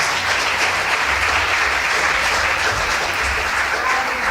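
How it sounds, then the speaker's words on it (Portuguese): A church congregation applauds in dense, sustained clapping that stays loud and even for several seconds, with no speech over it. "Quero que você aplauda Jesus pela vida do pastor Paulo Chagas."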